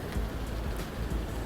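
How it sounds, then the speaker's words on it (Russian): Light rain starting to fall in a town street, a steady close patter of drops hissing on surfaces with no talking. "И пошел дождик."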